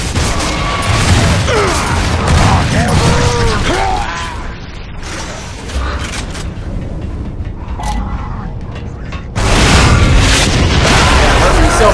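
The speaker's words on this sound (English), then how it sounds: "I'm getting fucking shot at." Sustained gunfire and mechanical clatter from a Gears of War 3 firefight crackle loudly throughout, with booming impacts, a brief lull, then a renewed heavy burst; a voice talks over it.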